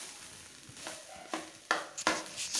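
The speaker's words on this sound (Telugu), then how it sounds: "సిమ్లో పెట్టే ఫ్రై చేయాలి, లేకపోతే కింద మాడిపోతుందండి." Grated coconut for burfi frying in a pan on a low flame, a soft sizzle with a few scraping stirs growing sharper toward the end.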